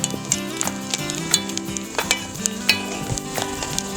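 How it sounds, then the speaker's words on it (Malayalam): Pieces of chopped coconut fry in hot ghee, a close steady sizzle punctuated by frequent sharp scrapes and clinks of a stirring spoon against the pan, with no talking. "നമുക്ക് ഇതിലേക്ക് തേങ്ങ കൊത്തിട്ട് വറുത്ത് കോരിയെടുക്കണം"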